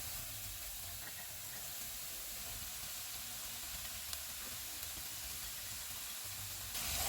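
Carrots sautéing over medium heat in a pan with already-fried garlic give off a steady, soft sizzle and hiss that runs unbroken and fairly quiet throughout, with no voices.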